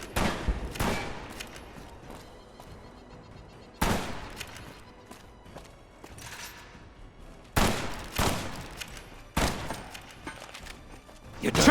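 Gunfire in Fallout New Vegas, several sharp bursts of loud shots cracking out at irregular intervals around four seconds apart, each decaying into a quieter rumble between volleys, with a voice heard faintly underneath.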